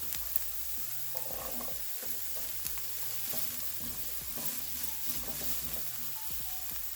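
Zucchini frying in a hot pan with a steady sizzle, a utensil stirring and scraping through the pieces in short irregular strokes, close up and without talk.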